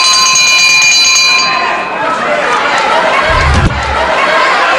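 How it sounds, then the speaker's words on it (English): A ring-side bell at a 1978 UK professional wrestling bout marks the end of round five, ringing briefly at the start and fading into loud crowd noise and a commentator's voice. "It's on the bell of round 5 anyway."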